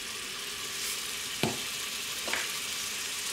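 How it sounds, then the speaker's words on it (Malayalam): Onion sautéing in a pan for chicken sambar, a steady close sizzle and hiss with two brief scraping stirs breaking through. "സവാള ഒന്ന് വഴറ്റിയെടുക്കാം."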